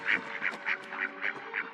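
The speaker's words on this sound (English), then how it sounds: "The swan made a loud cry." Loud, repeated cries from a swan on a lake, six evenly spaced honking calls in quick succession with no voices over them.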